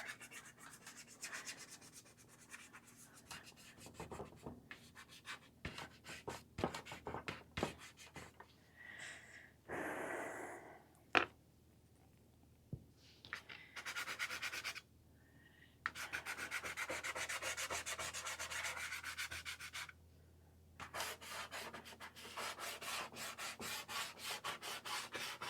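Dry pastel stick rubbing and scraping across greenish pastel paper in repeated strokes of varying length, close and fairly quiet, with short pauses between bursts and no talking.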